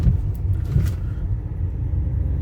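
A vehicle drives along a road, its steady low engine and tyre rumble continuous and close throughout, with no voices.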